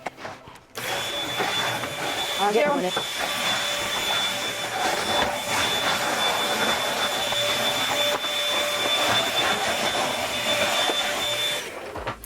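A vacuum cleaner runs steadily and loudly inside a Class A motorhome for about eleven seconds, with a constant high whine over its broad roar, then switches off. A voice speaks briefly near the start.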